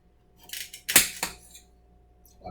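A knife slices a zucchini in half on a cutting board for zucchini fries, giving a few short crisp cuts and taps close up with quiet pauses between them.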